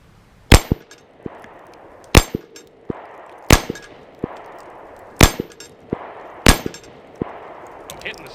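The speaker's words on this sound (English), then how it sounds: "I'm gonna shoot a few magazines through this sucker." Pistol shots fired at a steel flipper target: five sharp reports spaced a second or two apart, each followed by a bright metallic clang and short ringing, heard loud and close with no talking.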